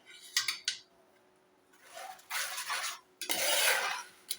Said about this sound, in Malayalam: നമുക്ക് ജസ്റ്റ് ഇളക്കി കൊടുക്കാം.